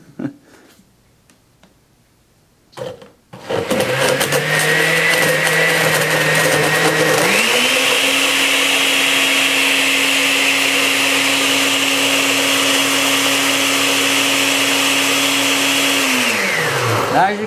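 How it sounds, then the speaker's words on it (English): An Osterizer 8-speed household blender is switched on after a few seconds of quiet handling and runs loud and steady for about fourteen seconds, its motor pitch stepping up once midway, then winding down at the end. "I'm going to blend this up a little bit."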